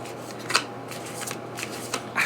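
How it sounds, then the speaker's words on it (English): Tarot cards being shuffled by hand, soft papery riffles and flicks in a quiet room, close and fairly faint, with no talking. "I don't know why I'm having so much trouble shuffling today."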